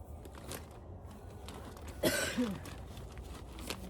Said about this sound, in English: This hay is making me cough.